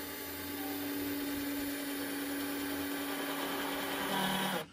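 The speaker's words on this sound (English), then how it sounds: "Then we had to get drilling and screwing." A power drill runs steadily while driving screws during the building of a shed, a loud, continuous whirring drone with a constant pitch that cuts off abruptly at the end.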